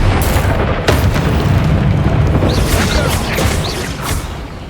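A Confringo fire spell explodes in the Hogwarts Legacy game, a loud booming blast with a sharp burst near the start, then rolling rumble and scattered crackles that hold steady before fading slightly.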